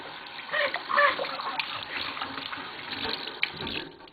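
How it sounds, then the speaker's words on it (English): A dish is rinsed under a running kitchen tap, a soft steady splash of water with fluctuating spatter and no speech. "So now what I'll do is rinse this off."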